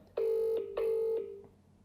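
A telephone rings in two clear, loud bursts with a brief gap between them, followed by the start of a faint third ring, with no talking over it.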